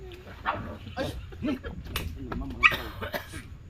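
Small dogs yip and bark in short, scattered bursts, mixed with people talking nearby.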